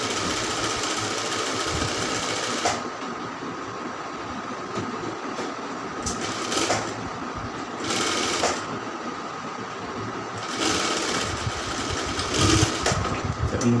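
An electric sewing machine runs steadily while stitching a round kameez, a continuous mechanical whir that surges and eases in short bursts, close and fairly loud with no talking.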